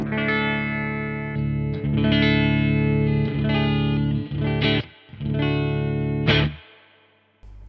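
An electric guitar through an Engl Savage Special Edition amp rings out chords with a clean, bright tone and a wash of reverb, strummed in bursts with brief pauses between phrases.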